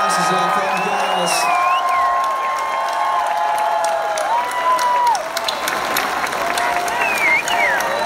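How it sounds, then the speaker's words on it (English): A crowd at an event applauds and cheers for the setup crew, with sustained loud clapping, whoops and shouts, and some whistles rising over the din throughout. "We got a huge round of applause for these guys who worked their asses off and gals."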